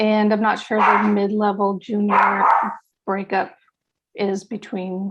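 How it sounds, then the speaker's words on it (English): Someone talks steadily while a couple of sharp dog barks break through in the background as a mail carrier arrives. "Sorry about the dogs if you hear them."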